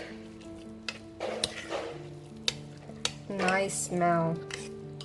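Baby rice porridge with broccoli, carrot, ginger, garlic, almond and raisin being stirred in a pot, soft scraping and bubbling strokes under a voice speaking briefly.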